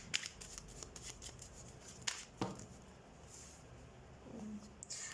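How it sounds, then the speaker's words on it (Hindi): Tarot cards shuffled by hand in quiet, soft riffling bursts and a few sharp slaps, close and faint, with brief pauses between. "So let's shuffle your cards Gemini."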